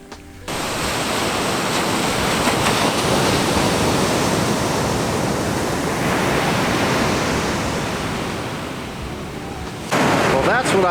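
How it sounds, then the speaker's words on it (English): Ocean waves break steadily on a Florida beach in the morning, a continuous loud roar of surf washing in close by, with a brief pause before the crashing resumes near the end. "You can already hear the sound of the waves."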